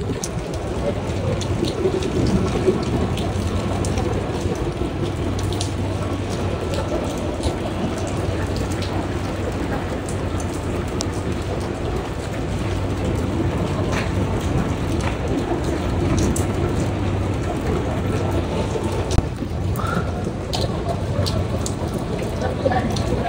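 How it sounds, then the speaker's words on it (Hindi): Heavy rain pours down in Mecca in a dense, continuous hiss, with low thunder rolling underneath throughout and a faint voice now and then. "एक बार फिर से भाई बारिश हो गई है मक्के में"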